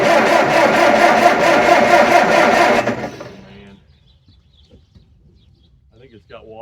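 A 72c10 tractor engine, with water in the exhaust, starts up with a loud rough roar. It runs for about three seconds, then dies away to near silence with faint background sounds.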